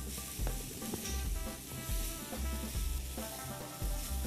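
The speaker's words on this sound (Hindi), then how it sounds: "और कैरी फ्राइंग पैन में गई, उसको जल्दी से थोड़ा सा फ्राई करें" Raw mango pieces frying quickly in a frying pan, a loud close sizzle with rough stirring and scraping bursts recurring every second or so, no voices.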